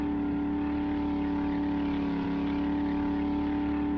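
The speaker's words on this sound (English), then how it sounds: "the truck, it sounds so fast, like you're going super fast" Truck engine driving fast in 7 Days to Die, a steady, close droning hum at constant speed with no gear changes or breaks, heard alone.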